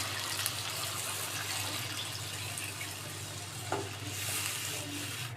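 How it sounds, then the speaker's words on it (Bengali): Two cups of hot water hit a pot of fried potatoes, a soft, steady sizzle and watery hiss with a brief splash near the end, faint and close, no speech. "গরম জল নিয়েছি 2 কাপ পরিমাণে দিয়ে দিব।"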